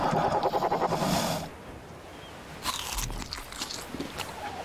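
A dodo in the game ARK: Survival Evolved eats mejoberries with a loud, rhythmic crunching and chewing for about a second and a half, followed by softer game ambience and scattered small sounds.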